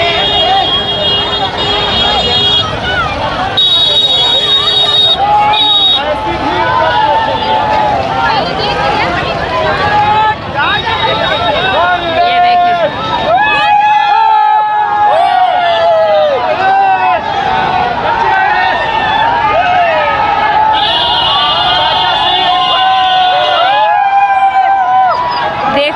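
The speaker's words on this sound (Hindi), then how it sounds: "शोर शराबा सुन सकते हैं।" Noisy hubbub of a huge crowd gathered at Sangam in Prayagraj, with loud continuous babble, shouts and whistles swelling throughout alongside nearby chatter.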